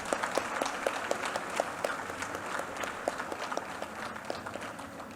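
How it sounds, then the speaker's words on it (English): Moderately distant audience applause for special guest Sister Lorraine Costa at a school annual day, a steady patter of many hands with a few sharper claps standing out near the front. "Kindly give her a huge round of applause."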